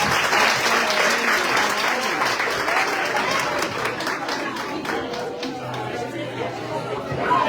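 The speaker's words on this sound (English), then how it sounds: "can we get a round of applause for Laura Stokes?" An audience at a civic event in Fairfax applauds steadily for several seconds, a dense wash of clapping with chatter and voices mixed in, easing slightly toward the end.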